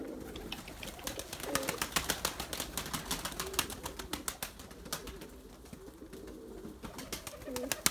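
Pigeons coo softly in low repeating calls while sharp wing flaps and clatters crackle throughout, close by.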